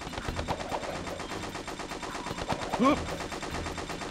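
Turrets fire in the Jak 2 video game as rapid repeated gunfire bursts throughout, with game music and effects and a short exclaimed voice near the end.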